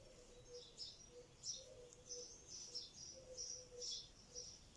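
Birds chirp and tweet repeatedly in the background of a quiet indoor-outdoor setting during needle lace work, with soft, steady calls recurring throughout, faint and continuous.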